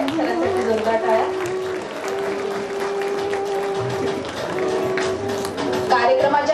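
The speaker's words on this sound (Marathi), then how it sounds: "सरांसाठी जोरदार टाळ्या" A hall audience applauds a teacher being honored at a school sports day prize ceremony; a dense, steady wash of clapping runs the whole stretch under a sustained tone and some voices.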